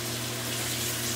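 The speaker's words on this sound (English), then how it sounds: "add water to it" Water running steadily into a pot of rice during cooking for shrimp fried rice, a continuous close pouring and hissing stream with a low hum beneath, no talk.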